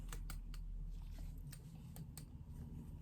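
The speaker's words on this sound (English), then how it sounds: "this is that zipper tapping on there" Small metal zipper pull tapping against a bag with faux leather piping and a full gusset, a series of light, irregular clicks like Morse code over a steady low hum.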